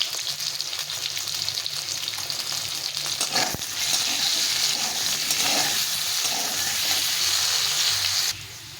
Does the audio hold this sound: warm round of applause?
no